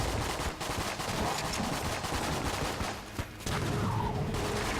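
Rapid gunfire from a weapon in Enter the Gungeon, a dense continuous stream of shots with brief pauses, loud and close, with no talking.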